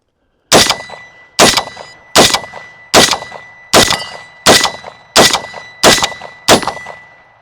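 Nine sharp rifle shots from a Roughneck-15 AR-style rifle, each ending in a bright ringing clang off a steel target, evenly spaced about a second apart, loud and close with quick decaying rings.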